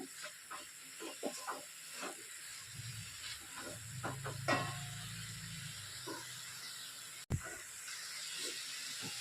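Drumstick leaves stir-fried in a dry pan for an egg palya, with a soft steady hiss and sizzle and occasional light scraping stirs, fairly quiet, plus one sharp clack near the end.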